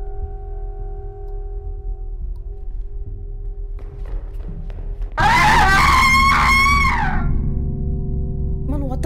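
A sudden loud scream erupts in the horror game Deppart Prototype after several seconds of quiet humming ambience, a wavering shriek lasting about two seconds before fading back into the drone.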